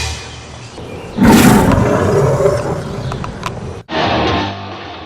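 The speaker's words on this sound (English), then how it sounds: "Dino's turned into a wolf man!" A snarling, growling roar of a wolf man bursts in loud and close, swelling and rasping for a few seconds, then breaks off before a lower rumbling background returns.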